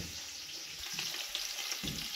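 Spices sizzle and crackle as they hit hot oil for a goat head curry with blood and brain, cooked over a wood-fired clay stove; steady close frying hiss with a few sharper pops and stirring bursts.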